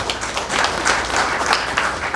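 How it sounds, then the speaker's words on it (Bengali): A church congregation claps for participants at a Sweet 16 birthday sermon, a short burst of moderately loud, slightly uneven applause lasting a couple of seconds. "আসুন আমরা তাদের জন্য একটু জোরে হাততালি দিই"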